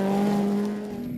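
A Ford Escort rally car on a gravel stage of the Goldrush Rally in Coromandel, a loud, steady engine drone holding one pitch, close by and fading slightly.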